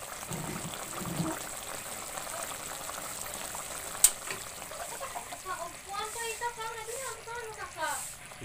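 Escabeche bubbles steadily in a cooking pot, a soft continuous boil heard up close under background noise, with voices chatting nearby and a brief sharp clink partway through.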